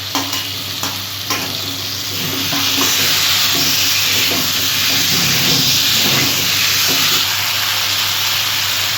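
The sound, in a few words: raw vegetables added to hot pan and stirred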